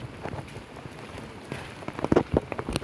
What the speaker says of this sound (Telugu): వర్షం పడుతుంది మళ్ళా